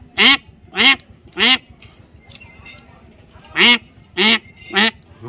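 A man imitates a duck with his voice, giving six loud, nasal quacks: three in steady rhythm, a pause, then three more, close to the listener over a faint background.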